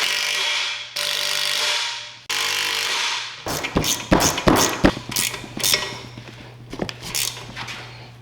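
Ratchet wrench cranking bolts in on an axle after fitting shims, a quick run of loud close clicks with sharp metallic knocks and clanks, preceded by a few longer whirring bursts.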